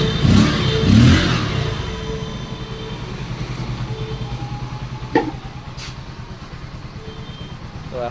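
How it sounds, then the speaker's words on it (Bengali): A Bajaj Pulsar motorbike, its carburettor just cleaned after dirt and water in the tank caused a missing problem, revs briefly up close and then settles into a steady, pulsing idle. "বাইকটা এখন ফার্স্ট ক্লাস সেলফ নিচ্ছে এবং পিক আপও নিচ্ছে"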